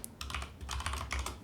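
Fingers tap quickly on a computer keyboard, a close, quiet run of soft key clicks in uneven bursts with short pauses, no voices present.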